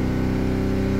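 Car engine fitted with an IAB secondary butterfly valve kit, held steady at roughly 2000–3500 RPM while accelerating: a loud, continuous mid-pitched drone with steady harmonic pulsing, alone and without talk.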